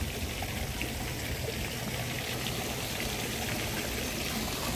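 Strong water rushing and pouring at a strawberry farm, a dense, steady splashing roar that fills the whole stretch without pause.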